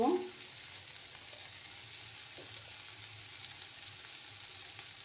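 Egg-potato curry fries with spices in a pan, a steady soft sizzle throughout, with a faint stirring scrape at the start, quiet and close.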